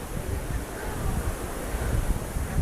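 Wind blowing across the summit of Sigiriya Rock in Sri Lanka, a steady rough rumble of gusts buffeting the microphone throughout, with no voices.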